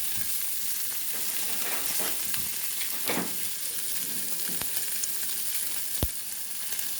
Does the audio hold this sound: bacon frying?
yes